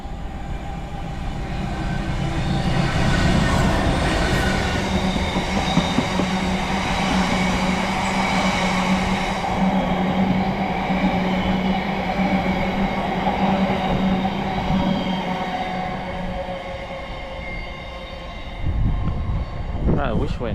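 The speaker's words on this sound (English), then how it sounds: "a train here." A train rumbles past near Ribblehead Viaduct in the Yorkshire Dales, a steady loud roar with a sustained low drone that builds and then fades over about twenty seconds, with people talking nearby.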